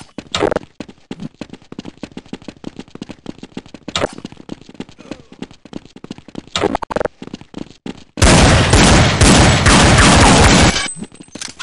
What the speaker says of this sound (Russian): просто кто-то гранату кидает.